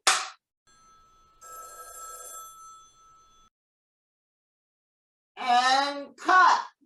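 A telephone bell rings in a single steady burst lasting about two seconds, fairly quiet, on an acting-class set; brief spoken voices come before and after it.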